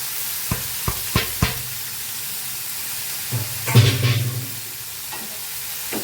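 Chopped spinach goes into a hot frying pan and is stirred, giving a few sharp clinks and scrapes followed by a short burst of sizzling at close range.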